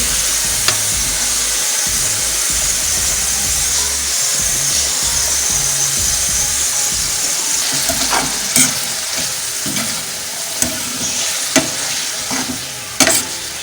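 Keema in a pan with capsicum and tomatoes just added, being stirred through: steady close sizzling and frying with scraping utensil strokes, a few sharper clatters near the end, no talking.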